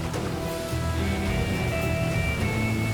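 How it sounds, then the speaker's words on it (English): Powerful river water surges over rocks in a salmon run, a loud, unbroken rushing roar without breaks. "And the powerful flow of water"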